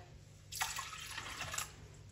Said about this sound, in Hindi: और हाफ गिलास ही यहाँ मैं पानी का ऐड कर दूंगी इसके अंदर।